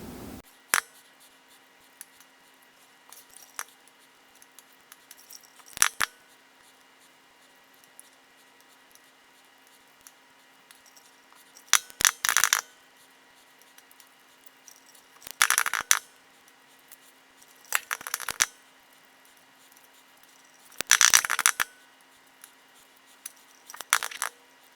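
Hard-boiled eggs being peeled after an ice water bath: scattered crisp shell cracks and crinkly tearing bursts, close and quiet, arriving in irregular clusters between stretches of near silence.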